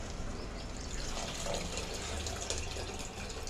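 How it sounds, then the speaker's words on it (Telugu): Tamarind juice being poured into a pot of boneless fish curry, a steady, continuous liquid pour with a gentle splashing trickle. It is moderately quiet and has no talking over it. "టైమ్ ఫర్ యాడింగ్ చింతపండు పులుసు."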